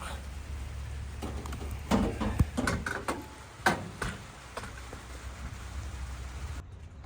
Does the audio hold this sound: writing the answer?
no